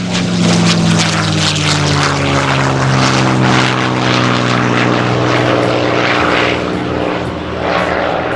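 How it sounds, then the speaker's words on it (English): A P-51D Mustang propeller warbird roars past at an airshow in New York, a loud sustained engine drone with a steady harmonic growl that holds strong across the whole pass. "And from your right, the P-51D"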